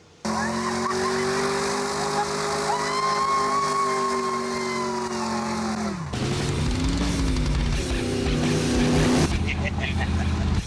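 A 1966 Cobra roars along the road, its engine droning steadily with shifting pitch and a brief change near the end, loud and close with no voices.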